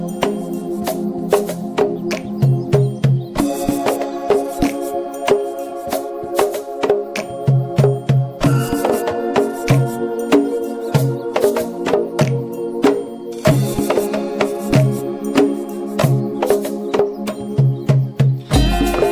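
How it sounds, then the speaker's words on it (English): A set of three batá drums play an interlocking, driving rhythm together, with deep open tones and sharp slaps repeating in a dense, steady pattern, loud and close. "What you're hearing is the batá drums."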